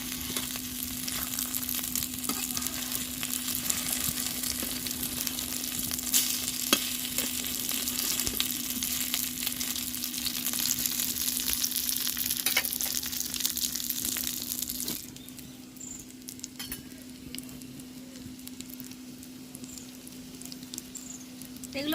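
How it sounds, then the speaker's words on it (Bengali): Egg and lentil fritters sizzle and crackle in hot oil in a pan during village-style cooking, a continuous patter over a steady hum that grows quieter partway through. "এগুলো ভাজা হয়ে গিয়েছে, তুলে নেবো এগুলোকে।"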